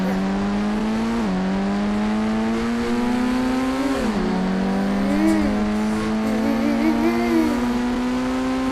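A Ferrari engine pulls away and revs, its tone climbing steadily, dipping sharply at two gear changes and climbing again, loud and close with a slight wavering whine near the end.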